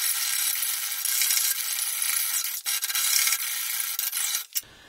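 An alloy steel bolt being cut at the end by hand, without machine tools, a steady rasping, scraping stroke rhythm close by, briefly pausing before the cutting stops abruptly near the end.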